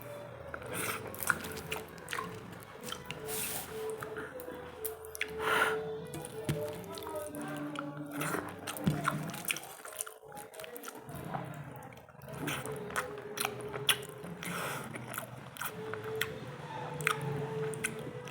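Close, wet squishing and smacking as hot rice mixed by hand is eaten, with soft chewing and sticky hand sounds coming in irregular bursts throughout.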